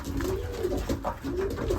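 Soft, throaty cooing from racing pigeons, repeated in rolling phrases with short pauses, close by over a low steady background rumble.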